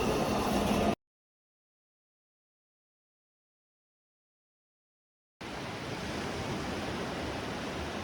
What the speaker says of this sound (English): The sound of the train coming through Carpinteria cuts through the sound of the waves